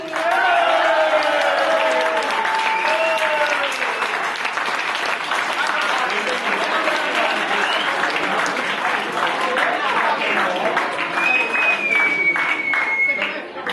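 Audience applauding at a stage introduction of performers, loud sustained clapping from a crowd with a voice speaking over it and a faint tonal whistle near the end.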